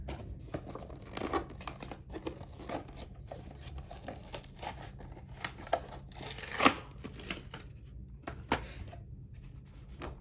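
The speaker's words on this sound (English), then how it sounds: "Let's get them out of the packaging." Plastic packaging of a Star Wars Vintage Collection Clone Trooper action figure is cut and crinkled open up close, with irregular snips, rustles and crackling bursts at low level.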